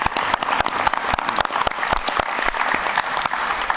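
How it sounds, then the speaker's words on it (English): A live audience gives a quick round of applause for a group of student contestants, steady dense clapping from many hands filling the room for several seconds without talk. "Why don't we just interrupt here with a quick round of applause for each of our students"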